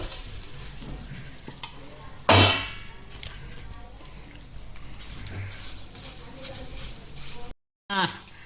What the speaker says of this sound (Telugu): ఇక ఇప్పుడు ఇది వేస్తానండి మునగాకు.